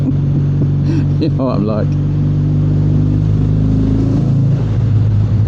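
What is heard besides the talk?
Kawasaki W650 motorcycle revving under a bridge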